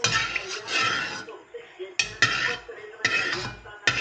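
Metal pan clattering and clinking on a stovetop while pork is fried in oil, several sharp bursts of scraping and knocking at an irregular rhythm, close and fairly loud with no talk.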